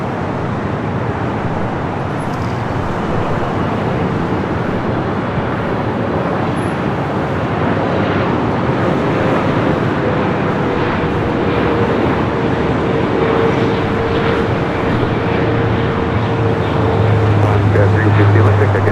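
Engine noise at LAX as an airliner comes in to land on runway 24 right, a loud continuous roar with a deepening low rumble toward the end, with voices talking over it.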